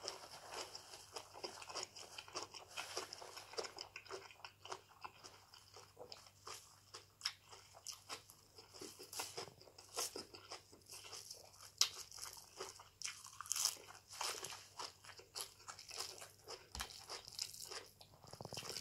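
Shrimp soaked in fish sauce are eaten with a dried chili dip, close crunchy bites and wet chewing repeating irregularly, with faint lip smacks and no talking.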